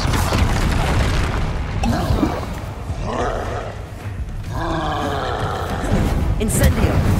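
Explosive Confringo spell blasts in Hogwarts Legacy combat, loud booming bursts that swell and roll over a continuous layer of battle noise, with a caster shouting spell names throughout.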